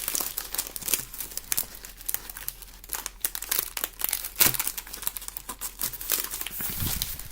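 Scrapbooking paper package with gold lettering, holding two sheets and tracing paper, being opened: steady close crinkling and crackling of plastic wrapping with brief tearing bursts throughout, no talk.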